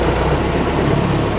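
A Ford Model T engine in low gear is given a little throttle, a loud, close, steady mechanical drone and vibration throughout the short stretch, without speech.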